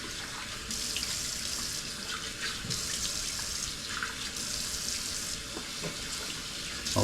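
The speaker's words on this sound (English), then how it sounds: "I'm going to do a couple of splashes to wipe off the excess soap" Running tap water pours steadily into a bathroom sink, close and constant, with brief splashes and sloshes as water is scooped up and splashed onto a face.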